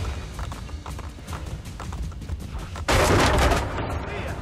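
Galloping horse hooves in Assassin's Creed: Brotherhood, heard during a horseback chase. A rapid, uneven clatter runs throughout, with a sudden loud burst of noise near the end.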